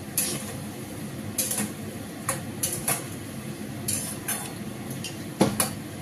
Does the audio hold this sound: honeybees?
no